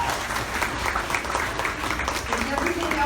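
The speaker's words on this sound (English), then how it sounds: "You want to give him a round of applause?" A staff meeting audience gives a round of applause for a colleague, a dense patter of clapping running steadily for a few seconds with some voices mixed in.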